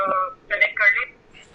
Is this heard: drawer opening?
no